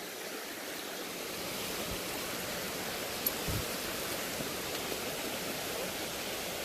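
Steady broadband rush of creek water flowing below an overlook on a bug-hunting hike, constant and fairly soft throughout with a couple of brief low thumps, no talk.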